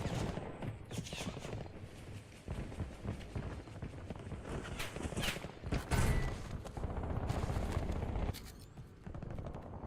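Steady gunfire in Warzone, rapid bursts and single shots rattling nearly continuously over about ten seconds, mixed with running footsteps and no clear talk.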